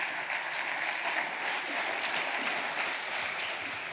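An audience at a town New Year's greetings ceremony in Cusset, France, applauds with steady, dense clapping that continues evenly throughout at moderate volume.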